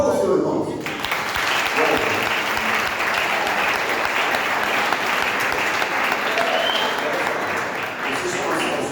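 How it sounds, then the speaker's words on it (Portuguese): A church congregation at a youth congress applauds together, a dense, steady wall of clapping that fills the room from start to finish, with a few voices and cheers rising underneath. "Aplauda o Senhor, irmãos."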